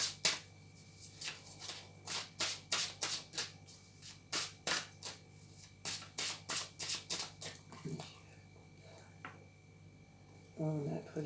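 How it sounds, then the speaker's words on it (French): Tarot cards shuffled by hand in a steady run of crisp riffling bursts, close and fairly loud over a low background hum, with a brief gap near the end. "j'espère que vous n'entendez pas trop les cartes"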